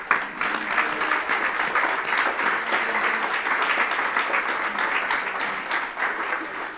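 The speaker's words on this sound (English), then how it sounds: "give yourself a round of applause for committing and dedicating to show up here." A seminar audience of real estate investors, on their feet, gives a sustained round of applause that stays loud and steady throughout, many hands clapping at once in a close, room-filling wash.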